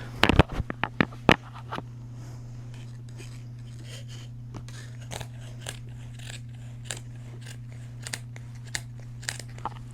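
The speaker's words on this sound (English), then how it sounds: "now we're gonna cut it out as soon as I can find my scissors" Scissors snip through crocheted blanket fabric in a quick cluster of sharp, close cuts, followed by sparser, softer snips over a steady low hum.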